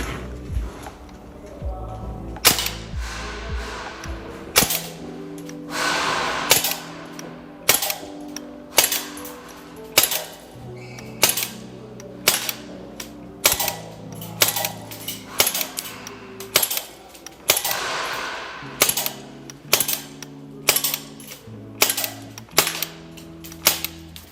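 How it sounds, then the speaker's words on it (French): A Swiss Arms FN Herstal M4 airsoft carbine fires a series of single shots at a 15-metre target outdoors, each a sharp, close snap separated by irregular pauses of about a second. "on a chargé le nouveau chargeur et on va faire une petite série de tirs là à 15 mètres"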